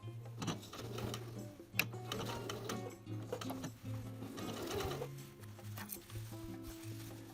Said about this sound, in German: Dann steppe ich den Bund mit 10 mm Nahtbreite auf.